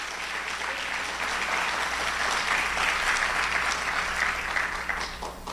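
Church congregation applauds at a Proclama São Paulo gathering, a broad, even rush of many hands clapping that swells slightly toward the middle and tapers at the end, heard alone without speech.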